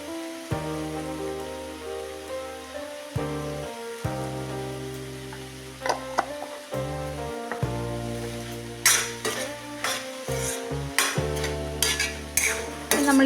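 Ivy gourd cooked soft in a pan is stirred with salt, giving scraping, clinking spoon strokes in an uneven rhythm over a steady pan background, close and fairly loud, with no talking and some tonal music running underneath.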